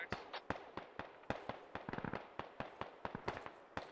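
Distant long-range gunfire crackles in the Squad video game, with sharp scattered shots coming in irregular bursts and single cracks, all fairly faint and far off, with no talk over them.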